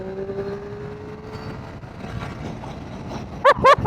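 A 2026 Triumph Street Triple 765RX motorcycle's triple-cylinder engine hums steadily while riding, then snaps into several short, sharp revving bursts near the end, loud and close.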